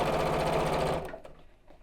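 Sewing machine stitching fabric for a zipped biscornu pouch: about a second of fast, steady, close stitching that abruptly stops, leaving faint handling noises.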